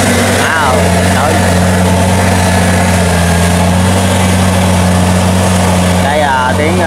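Crawler tractor engine roaring while plowing a field alongside a wheeled tractor, a loud, steady low drone that continues without pause, with a voice speaking over it.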